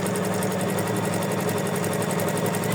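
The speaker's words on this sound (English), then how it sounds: "to make it easier for our machine to stitch it." An embroidery machine stitches felt held in its hoop, giving a dense, loud, fast mechanical whir with a steady repeating needle pulse close by.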